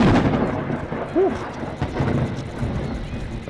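Deep rolling thunder from lightning in The Lightkeeper video game, a broad continuous rumble that fills the short scene, with a brief whistling chirp rising over it.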